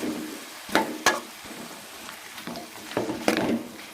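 Chopped bottle gourd and tomato sautéing in oil for chutney, heard as a faint sizzle under sharp spoon scrapes and clicks against the pan, with occasional louder stirring bursts and no talk.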